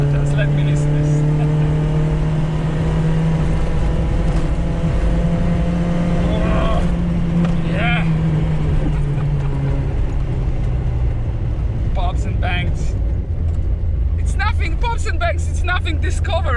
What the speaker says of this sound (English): I definitely need to adjust those carburetors again. But they sound so cool.